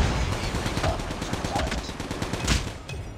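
Rapid automatic gunfire from a gun in Call of Duty Mobile on the Meltdown map, a fast steady stream of shots with one louder burst.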